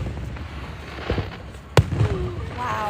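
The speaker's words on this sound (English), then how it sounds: "We've just been doing fireworks." Fourth of July fireworks: one sharp, loud bang cracks through the middle, followed by softer pops and crackles over steady outdoor background noise.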